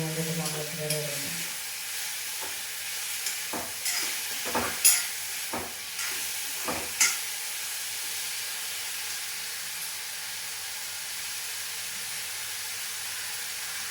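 Pineapple pieces sautéing in oil in a pan for pineapple pulissery, giving a steady low sizzle with a few soft stirring knocks and scrapes partway through, fairly quiet and close, with no talking.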